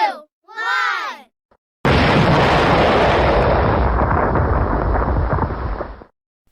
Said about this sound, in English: United Kingdom Schulkids will fire the starting bomb.